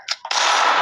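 A single sharp gunshot blast from a first-person shooter game, preceded by a couple of quick clicks, then a loud sustained ringing report, close and alone without talk.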